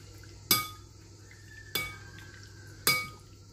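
A utensil scrapes and knocks against a bowl while chicken marinade for caramelised mini skewers is stirred. Three sharp clinks come at roughly even intervals over quiet background hum, with no voices.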